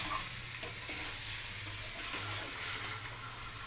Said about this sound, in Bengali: মশলা টশলা দিয়ে আলু দিয়ে কষাচ্ছি এখন আমি